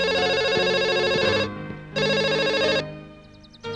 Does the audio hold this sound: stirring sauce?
no